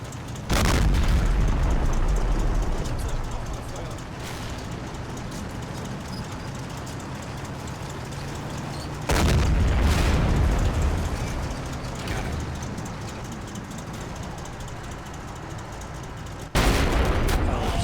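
Panther tank cannon fire in Combat Mission Red Thunder strikes a heavy tank: three loud, heavy booms spaced several seconds apart, each trailing a long rumbling decay.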